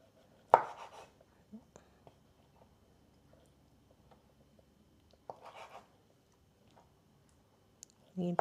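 Knife chopping chicken offal (liver and giblets) on a board in a home kitchen, a few sharp separate cuts spread across the clip with quiet gaps between them, and a voice speaking at moments.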